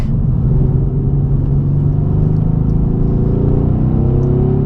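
A 2017 Mercedes C63 AMG S Coupe's engine drones loudly and steadily from inside the cabin, a deep low rumble with a slowly rising pitch as the car accelerates and no talk over it.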